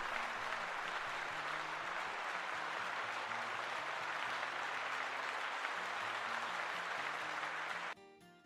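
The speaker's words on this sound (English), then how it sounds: "Let's give him a round of applause." Sustained applause from a crowd, a dense, even wash of clapping that holds steady and loud for several seconds, then cuts off abruptly near the end.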